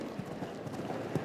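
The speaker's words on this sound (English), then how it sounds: "This mare has a few more miles on her than Rosanna Duparc as well. Big strided horse" A big-strided show-jumping mare galloping around an outdoor arena course, hoofbeats thudding in a steady muffled rhythm under broad crowd and venue ambience.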